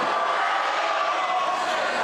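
A basketball crowd in a high school gym, Titans fans, lets out a steady, dense roar of protest after a free throw, continuous and loud throughout.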